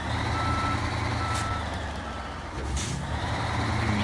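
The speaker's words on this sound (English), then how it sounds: "Pull it backwards, David, and then" A truck reversing in the video game SnowRunner sounds a steady backup beeper over a loud, constant engine drone, with a brief hiss like an air brake partway through.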